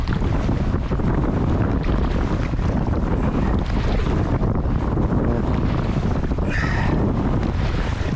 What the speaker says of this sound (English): Occasional blasts of wind